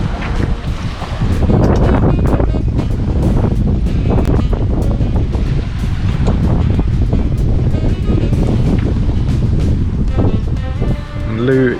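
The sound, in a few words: strong wind and waves on a sailing boat at sea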